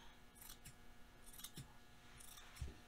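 Scissors snip along the side seam of a T-shirt, giving a few faint, crisp cuts spaced out over a low, quiet background.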